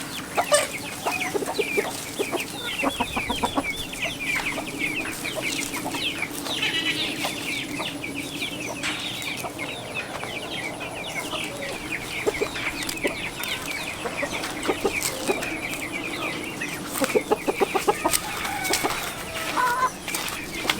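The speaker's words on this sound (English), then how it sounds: "There's gonna be big chickens everywhere." A flock of chickens clucking continuously in a yard near a coop, many overlapping calls and squawks at close to medium distance, with scattered rustling throughout.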